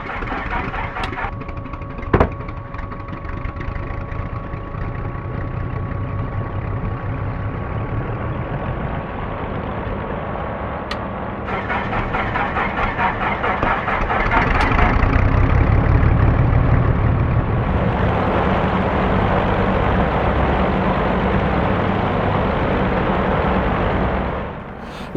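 Twin piston engines of a BN-2 Islander idle steadily in X-Plane 11, a continuous loud drone that swells louder midway and holds before dropping off at the end, with no talking.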